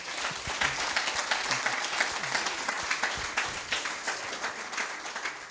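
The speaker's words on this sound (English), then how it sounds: "Let's give Siya a big round of applause." Steady applause from a seated audience at a business talk fills the whole stretch, a dense even patter of many hands clapping with no voices over it.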